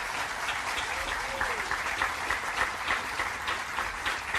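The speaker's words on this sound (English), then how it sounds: "Nestor, I hear some woots." A university STEM building unveiling audience applauds and cheers, a dense, steady wash of clapping with scattered whoops, heard from some distance at moderate loudness, with a faint voice briefly over it.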